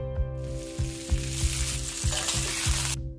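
Pork pieces sear and sizzle steadily in a hot pan while braised kimchi is being prepared, with a dense, loud frying hiss and periodic soft thumps and scrapes as the meat is turned.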